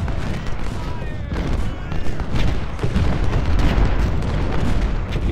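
Cannon and artillery fire in the Civil War strategy game Ultimate General: Civil War, a dense, continuous barrage of booms and rumbling volleys with battlefield noise throughout.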